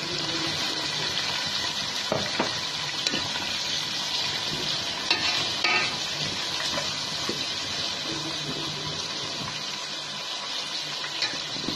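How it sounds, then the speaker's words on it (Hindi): Meat frying on high heat with ginger garlic paste, a dense continuous sizzle and hiss with scattered stirring clatter, close and steady throughout with no talk. "और इसको अच्छी तरह से भूनते हैं तेज आंच पे ताकि गोश्त का पानी"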